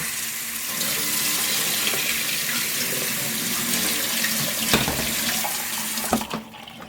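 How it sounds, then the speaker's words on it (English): A cold water tap running in a home kitchen while homemade butter is washed, a steady close rushing stream that continues throughout, with a few clinks and splashes near the end and no talking. "So I'm just going to run the cold water tap."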